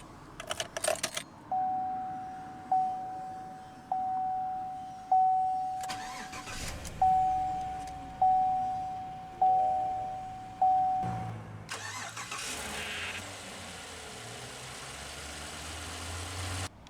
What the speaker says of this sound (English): Now that we're behind the wheel, let's go ahead and start the engine.